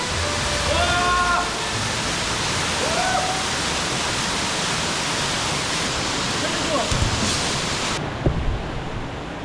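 Water rushes steadily through a deep mountain gorge stream in a broad, constant roar, with brief voices and faint chirps over it.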